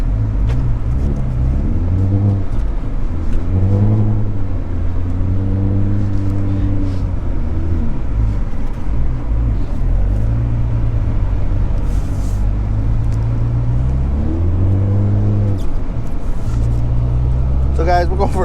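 A 26-year-old Ford Powerstroke diesel truck being driven: a loud, close engine drone rising and falling through repeated revs and shifts, steady throughout the drive.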